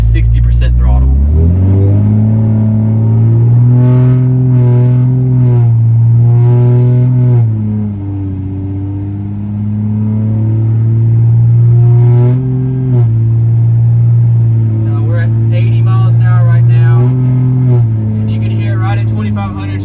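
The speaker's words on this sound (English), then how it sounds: "That's that 5-inch exhaust with the high mount manifold" A 2nd Gen truck with a swapped 2017 6.7 Cummins diesel and five-inch exhaust with high-mount manifold accelerates with a deep, loud exhaust drone that rises and drops through gear changes, rumbling close by throughout.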